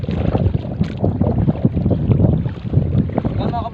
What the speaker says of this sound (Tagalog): kasi lakas ng hangin